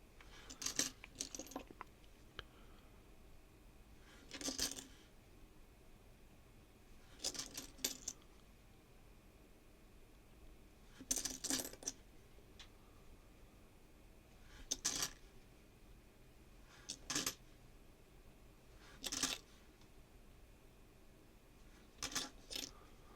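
Dimes from bank coin rolls clink and jingle in short bursts of handling, repeated roughly every two to four seconds, close and soft in an otherwise quiet room with no talking.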